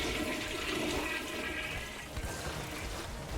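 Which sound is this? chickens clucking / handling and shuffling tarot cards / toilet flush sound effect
toilet flush sound effect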